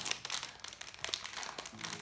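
Crinkly packaging being torn and pulled open on a box of tea bags, a close, busy run of crackling and rustling plastic or cellophane with short crunches, heard alone without talk.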